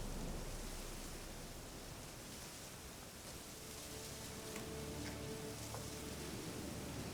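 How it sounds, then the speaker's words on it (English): Steady rain and wind in the video game The Witcher 3 form a constant broad hiss through the whole clip, with a faint low hum and a few small clicks partway through. "it will lower the audio of just the rain and the wind as well."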